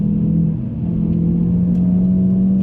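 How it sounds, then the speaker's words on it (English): Hyundai i30N with a DCT gearbox accelerating hard, its enlarged exhaust giving a loud, steady droning engine note that holds close and constant throughout, with no talking. "Sounds way better. It's got a larger exhaust outlet."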